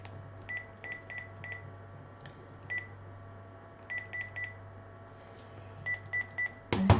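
Telephone dialing tones beep in quick clusters of short keypresses separated by pauses, over a low steady hum, ending in a sharp burst of noise.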